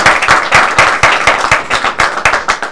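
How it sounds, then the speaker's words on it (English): Audience applause for two players at a charity game press conference, a dense, steady patter of many hands clapping close by for about three seconds, with no talk over it. "Round of applause for the two players"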